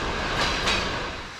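A passenger train in Central Asia rolling along the rails, a loud close rumble with two quick clacks of wheels over rail joints, fading slightly at the end.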